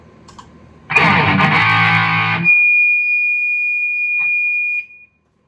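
A Kramer VT-211S electric guitar strums a heavily distorted chord that cuts off into a long, piercing, sustained feedback tone, loud and alone after a faint lead-in.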